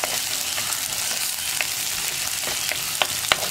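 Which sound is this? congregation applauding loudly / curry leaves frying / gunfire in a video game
curry leaves frying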